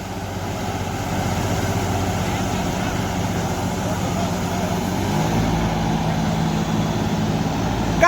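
A new John Deere 5075 tractor engine drones steadily and loudly throughout, stuck on wet ground, a low continuous rumble that swells slightly partway through, with faint voices underneath.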